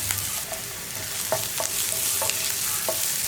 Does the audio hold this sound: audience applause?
no